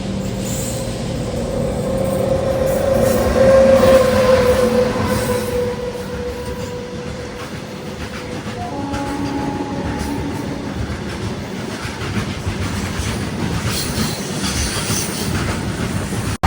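A goods train rolls past on the Konkan Railway, a steady loud rumble of wagons and wheels with a brief squeal early on and faint rhythmic clatter throughout, no voices.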